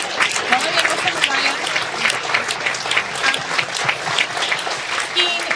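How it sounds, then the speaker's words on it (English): An audience claps steadily, a dense and even wave of applause that holds at full strength throughout. "I'd love to give everybody a round of applause for everything you shared."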